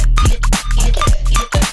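Synth pluck melody from a hip hop EDM drop, doubled with extra notes one octave below, playing a syncopated pattern of bright plucked notes over a deep low end, loud and continuous with no talking.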